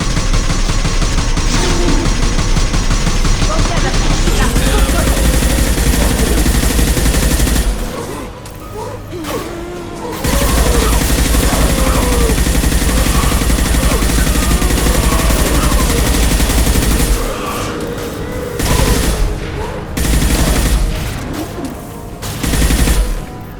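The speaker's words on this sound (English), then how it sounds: "Firing a high impact shot." Heavy weapon in Mass Effect 2 firing high impact shots, a loud sustained barrage of booming gunfire with dense rumbling layers, broken by short pauses before resuming.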